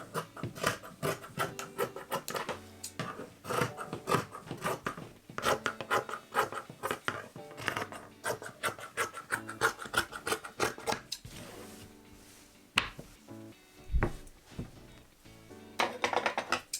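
Excess fabric trimmed from a patchwork quilt coat, mostly around the sleeves, with rapid rasping cuts and rubbing strokes up close, coming in uneven bursts with short gaps and a sharper thump near the end.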